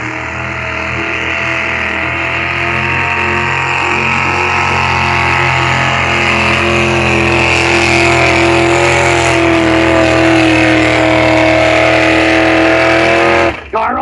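A race car with a tuned 5.7 liter Hemi engine roars at full throttle at a night drag racing event on the prairies, a loud, sustained, steady engine drone lasting about thirteen seconds before cutting off abruptly.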